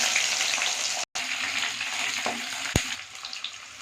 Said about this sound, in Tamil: எண்ணெய் ஊற்றி கடுகு போட்டிருக்கிறேன் கடுகு பொரியட்டும்